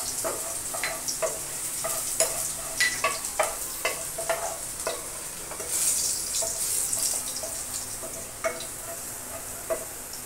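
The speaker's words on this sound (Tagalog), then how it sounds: "kapag mainit na po ang mantika, ilagay na po natin ang bawang. At ating pong haluin ang bawang hanggang sa maging golden brown" Garlic fries in hot oil and is stirred until golden brown. A soft, continuous sizzle runs under repeated scraping and clicking strokes of a utensil against the pan, fairly close and quiet, with no talking.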